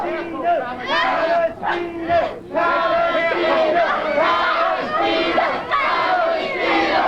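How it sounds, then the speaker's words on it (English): A wrestling arena crowd roars and cheers continuously at a women's match, loud and dense, with a few brief dips in volume and shouting voices mixed through the din. "Listen to the crowd cheering her on."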